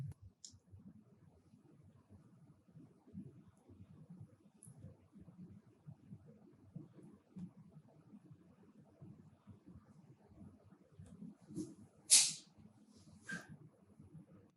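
Sparse computer mouse clicks during a XAMPP installation on a PC: a few faint, isolated taps spread out, then a sharper, louder click and a couple more near the end, over quiet low background noise.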